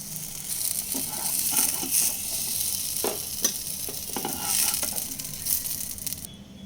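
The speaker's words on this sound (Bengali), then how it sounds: "বেগুনগুলো লালচে করে ভেজে নেব" Eggplant slices fry in a wok, with steady close sizzling and repeated scraping, stirring clicks throughout, no voices.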